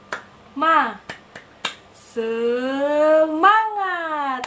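Children in a classroom do a rhythmic 'tepuk semangat' clapping chant, with a few sharp, spaced claps and finger-snap-like hits among voices chanting and calling out loudly.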